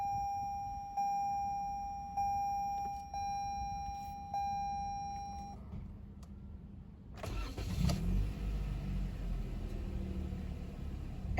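A 2023 Toyota Camry SE's 2.5-liter engine cranks after several soft chimes, catches with a surge and settles into a steady, smooth idle, heard close from inside the car without talk.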